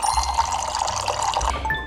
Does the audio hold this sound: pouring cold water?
yes